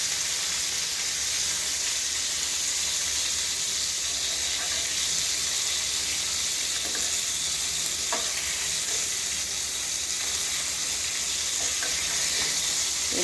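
Hilsa fish fry in hot oil in a pan, a loud, continuous close sizzle with crackling pops and occasional faint clinks throughout.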